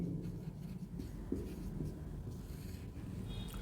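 Pen or marker writing on a board or paper during a chemistry lesson, faint scratchy strokes close up over a low background hum.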